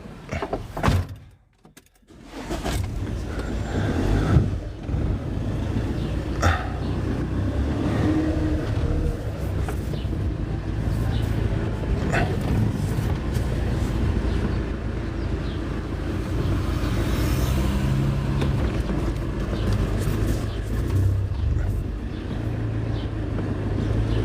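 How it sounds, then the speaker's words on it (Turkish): Car pulling up outdoors, a steady low rumble of engine and road noise held for a long stretch after a brief dip, close and moderately loud, with no talking. "Araba geldi."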